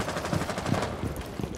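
Turret gunfire in a tactical shooter game played at a LAN event comes as rapid bursts of muffled shots at a moderate distance, several quick volleys across a short stretch, with no talking.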